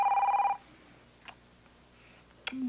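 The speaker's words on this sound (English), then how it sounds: "We're not answering the phone." A telephone rings in a quiet room: one short ring burst, then a pause broken by two faint clicks before another tone begins, with no talk over it.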